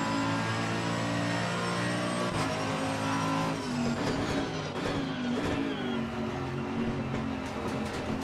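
Mercedes-AMG GT3 race car engine in Assetto Corsa Competizione at Barcelona, a steady loud drone with shifting harmonics as revs rise and fall, continuous and close throughout.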